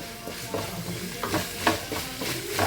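Sautéed brinjal with ginger and garlic stirred in a hot pan: a continuous close sizzle with repeated scraping and clattering strokes of the spoon, no voices.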